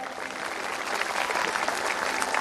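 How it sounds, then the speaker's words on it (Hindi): Devotees applauding at a Bhagwat Katha gathering in a pandal, a dense, continuous round of clapping from many hands that carries on at an even level across the whole stretch. "और एक बार ताली बजाएं आप सभी भक्तगण अपने लिए"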